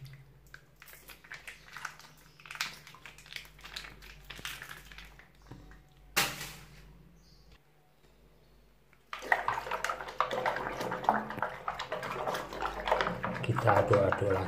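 Liquid poured into a toilet cistern tank during cleaning, a sustained splashing, gurgling flow that builds loud and steady in the latter half, with quieter handling noises before it.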